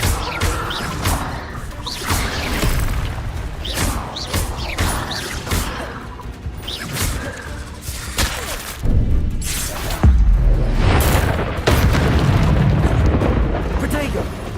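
Confringo explosion spell in the Hogwarts Legacy video game, heavy booming blasts and crashing impacts layered with whooshes in loud, chaotic combat, with a voice calling out spells over the action.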